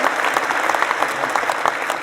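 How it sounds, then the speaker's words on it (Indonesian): Forum audience applauding the speakers, a brief burst of close, dense clapping at an even level. "Sekali lagi terima kasih, tepuk tangan kepada narsum kita."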